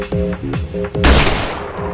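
Several sharp Roblox horror game gunshots fire in quick succession, followed by a louder blast that trails off, close and punchy.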